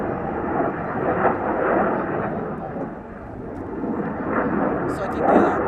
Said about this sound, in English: Oh, there's the F-35.